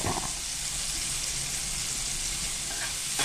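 Tomatoes with salt frying in a pan for a Bengali koi fish curry, giving a steady dense sizzle and hiss that runs continuously and fairly close, with faint stirring scrapes near the start and end.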